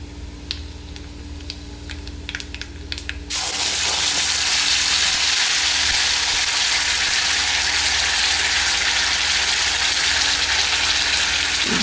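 Ground bottle gourd leaf paste hits hot oil tempered with black cumin and dried chilli, bursting into a loud, steady sizzle after a few seconds of faint ticking, then frying continuously close up.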